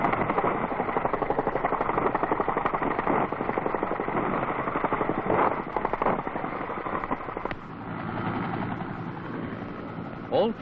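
A military resupply helicopter's rotor thumps steadily at close range, a continuous loud chopping drone with a brief change near the end.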